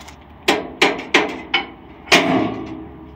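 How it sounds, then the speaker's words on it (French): Five sharp hammer taps driving chassis travel-position pins into place, each a crisp metallic strike with a short ringing decay, close and loud, the last blow heaviest, with no talking. "Un petit coup de marteau, ça les aide."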